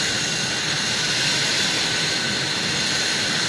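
Steady engine roar of a shuttle craft in the Second Life virtual world, a dense, continuous whooshing drone with no breaks, loud and close throughout.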